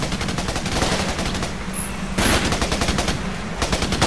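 Rapid automatic gunfire from the Xbox 360 shooter Raven Squad rattles on without pause, dense and loud, with bursts overlapping into a continuous battle clatter.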